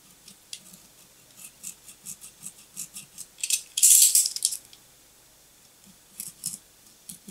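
A sharp knife slices through fishing line at an angle, giving a string of small crisp snips and light rattles, with one louder scraping cut near the middle, close and alone without talk.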